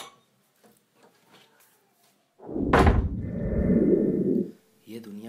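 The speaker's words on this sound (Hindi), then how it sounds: "दरवाजा बंद कर ले।" A door is pushed shut with a sharp bang, followed by a couple of seconds of rattling, scraping noise. Faint voices come before it and a voice follows.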